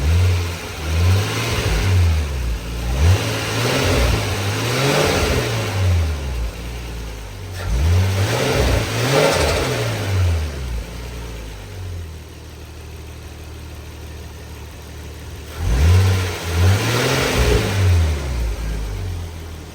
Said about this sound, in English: So I'll give it a few little revs without the clutch fan.